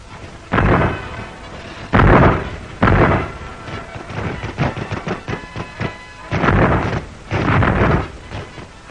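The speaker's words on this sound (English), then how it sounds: "As the target comes within range, the crew of a 4-inch gun engages within seconds." A 4-inch naval gun fires at a target, loud heavy blasts booming out in irregular bursts with rumbling echoes and wind noise between shots.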